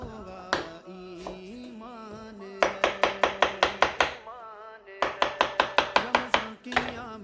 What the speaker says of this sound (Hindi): अभी हम तरबूज को काट लेंगे